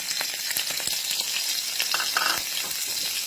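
Minced pork sizzles and spits in a hot pan, with steady bright frying crackle and intermittent stirring scrapes, close and continuous.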